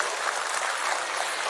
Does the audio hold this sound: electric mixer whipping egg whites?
no